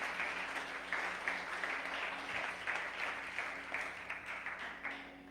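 A church congregation claps steadily throughout, a dense, moderately loud wash of palms with a faint low hum underneath and no voices over it.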